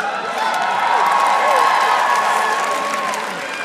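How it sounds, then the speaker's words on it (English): A large concert crowd at Winter Jam 2014 applauds and cheers loudly, with whoops rising over the clapping before it eases slightly toward the end. "That deserves a heck of a lot louder applause."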